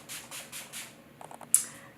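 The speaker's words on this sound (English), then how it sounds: "To set everything in place so it lasts, I'm gonna use the Wet n Wild Matte Finish Spray" Wet n Wild Matte Finish setting spray misted from a pump bottle during makeup, several soft hissing bursts in quick succession, then a few faint clicks and one sharper final spritz.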